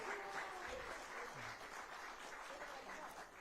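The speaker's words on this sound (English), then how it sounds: "Let's clap our hands for Wabantu." An audience claps for a traditional Tanzanian ngoma performance group at a conference event, a continuous, fairly faint patter of many hands with a hint of voices mixed in.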